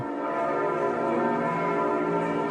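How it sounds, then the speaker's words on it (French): Church bells ringing continuously, rich overlapping tones sustained throughout, moderately loud with a slight distance. "J'entends les cloches là."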